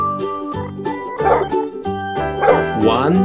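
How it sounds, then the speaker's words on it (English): A dog barks several times over background music, the barks short and fairly loud, spaced irregularly. "Now the dog."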